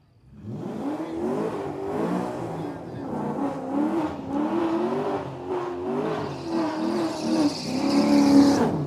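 Nova and Camaro on a drag racing test pass: engines revving and accelerating at a distance, rising and falling under an announcer's steady commentary, growing louder toward the end.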